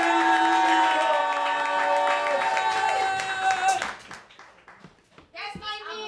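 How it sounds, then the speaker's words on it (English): At a poetry slam, loud music with a sustained melodic line fades out, followed by scattered clapping and cheering from the audience for a performer coming to the stage, with voices mixed in. "Please give a warm round of applause for D-Rod!"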